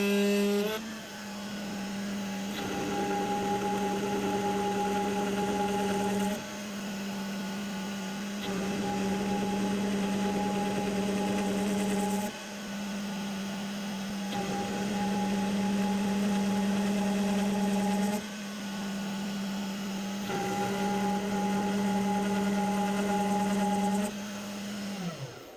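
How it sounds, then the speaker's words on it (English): A Carvera desktop CNC machine milling without its dust shoe, a steady whining spindle hum with cutting tones that stop and restart in repeating passes every few seconds. "So let's watch the Carvera in action again,"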